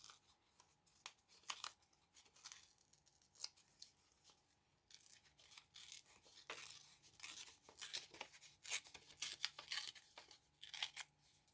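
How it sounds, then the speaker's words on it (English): Paper rips and tears by hand for a collage, close, with bursts of tearing and crinkling that grow denser and louder toward the end, no talk. "I'm going to just rip and tear this whole thing just to match."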